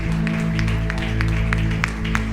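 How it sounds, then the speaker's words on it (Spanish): Congregation applause in a church service for God, a dense run of rhythmic claps over a steady, sustained musical tone, fairly loud and continuous. "Denle un fuerte aplauso a Dios de dioses"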